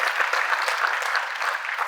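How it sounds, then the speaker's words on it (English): A round of applause at a military change of responsibility ceremony, a crowd clapping steadily and evenly at moderate loudness, sustained without pause across the short stretch. "Please, another round of applause for our leader support team."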